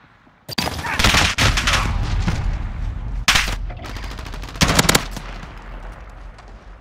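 Rapid automatic gunfire crackles in Call of Duty: Modern Warfare during a multiplayer cyber attack match, with loud sustained bursts and sharp separate volleys over a battle background.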